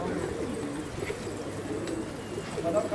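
A loft of pigeons coos steadily in low murmuring tones while birds take off and settle on their own during exercise flights, a continuous soft chorus with faint chirps.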